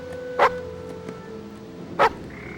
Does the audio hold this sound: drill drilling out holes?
no